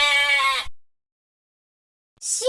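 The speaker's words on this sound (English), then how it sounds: "sheep" A sheep bleats loudly and close, one long wavering cry, then silence, then the start of a second bleat cut off at the end.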